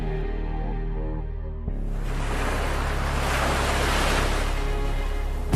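Ocean surf at Kanyakumari rolling in as a steady broad wash that swells louder partway through, with a low droning hum beneath it and no voices.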